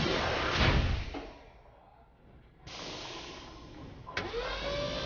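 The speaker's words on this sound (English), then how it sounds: "The sweep pushes any remaining pins into the ball pit, and the standing pins are replaced onto the deck" An automatic bowling alley pinsetter whirs and rumbles as its sweep pushes leftover pins into the pit, with a mechanical drone that dips, rises again and ends in a sharp clunk.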